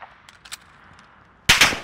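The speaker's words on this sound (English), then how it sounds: "Gunfire will alert you to an enemy's presence." Video game gunfire from Modern Warfare: a few faint isolated shots early on, then a sudden loud close burst of rapid automatic fire that continues to the end, with no talk.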